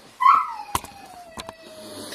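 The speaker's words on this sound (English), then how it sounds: "Louie is just going to continue to bark because that's what Louie likes to do." A dog in a home brewing setting lets out a single short, high yelp, followed by scattered clicks and knocks nearby.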